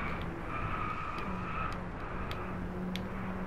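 The 1.6-litre engine of a Mini John Cooper Works GP drones steadily on a Scottish track, a constant buzzing hum with faint higher whines, heard from inside or close by; no talking.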